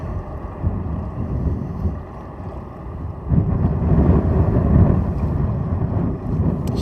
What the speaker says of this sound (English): Still really windy out here today.